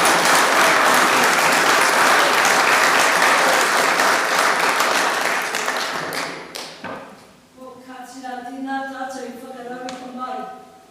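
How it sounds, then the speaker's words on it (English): Audience applauding panellists at a Māori ward meeting, loud sustained clapping that fades after about six seconds, followed by a voice speaking over the last scattered claps. "One more big round of applause for our wonderful panellists this evening."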